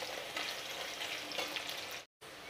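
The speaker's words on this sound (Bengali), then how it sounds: "পেঁয়াজটাকে ভালোভাবে ভাজতে হবে, পেঁয়াজটা যতক্ষণ না গোল্ডেন কালার হয়ে যায়।" Sliced onions fry over a medium flame until golden for soya bean curry, giving a steady close-up sizzle that cuts out briefly near the end, with no talking.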